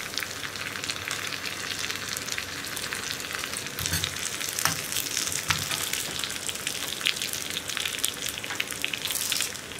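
Round-sliced onions fry in a pan for banana pachadi, giving a continuous close, crackling sizzle with scattered pops and the occasional stir.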